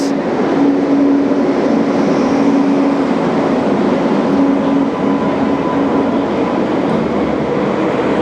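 The Tirumala Express passenger train on the Guntakal to Visakhapatnam line rolls at a station platform, a loud continuous rumble with a steady whine and faint clatter, unbroken for several seconds.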